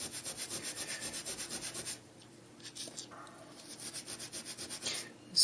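A Scotch-Brite abrasive pad is rubbed back and forth in quick, even strokes, a close, soft scratchy swishing that pauses, then resumes more irregularly before a final louder scrub.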